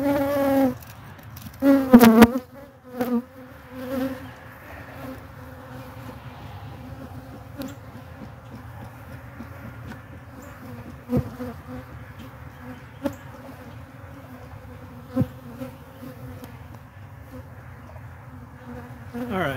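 Honey bees buzz steadily around an open Layens hive as a spilled bit of broken comb is left for robbing; a dense, continuous hum fills the whole stretch, with a few louder knocks and movements early on and no talking.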